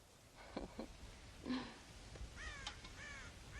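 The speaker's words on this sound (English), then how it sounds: "God damn crows!" Crows caw in a farm setting in the game Red Dead Redemption, several harsh calls spaced over a few seconds against a faint outdoor background.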